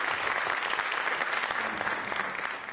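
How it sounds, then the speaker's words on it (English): An audience at a university lecture series claps after a talk on starting a business, giving dense, sustained applause that stays loud and even throughout. "let's give Chris another round of applause"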